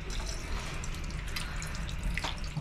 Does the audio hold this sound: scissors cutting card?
no